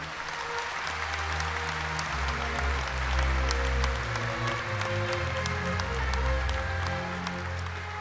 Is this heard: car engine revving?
no